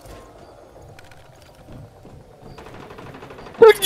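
Gunfire in the survival shooter game Once Human, faint, distant bursts and pops over low background rumble for most of the stretch, ending in one sharper, louder burst nearby.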